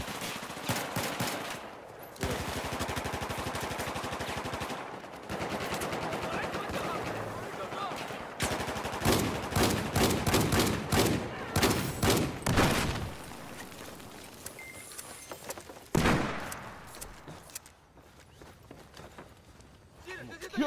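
Shotgun blasts and other gunfire in a fast online shooter match, repeated sharp bursts at close range mixed with game noise, while players talk over the action.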